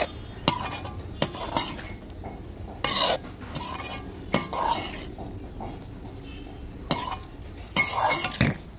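A spoon scrapes and clinks against a metal wok while radish pickle is mixed with spices, giving irregular bursts of metallic stirring and knocks separated by quieter pauses.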